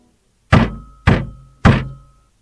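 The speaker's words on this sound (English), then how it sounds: "a friendly rap on the front door summoned their attention" Three firm, evenly spaced knocks on a wooden front door, close and loud, each with a short ringing decay, then silence.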